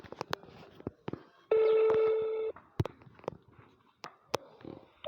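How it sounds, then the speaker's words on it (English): A phone call ringing out: a single steady ring tone lasting about a second, surrounded by sparse clicks and handling taps, fairly near and clear with no talk. "Guys, it's ringing."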